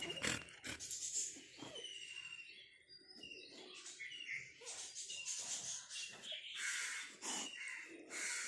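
A crow caws repeatedly, fairly close, in uneven bursts, with other birds chirping faintly around it.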